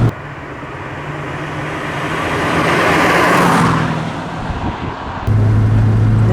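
An MG RV8 with a Rover V8 engine on a road test, heard from on board as a steady engine drone that swells as the car accelerates, eases off, then settles into a lower, steady hum.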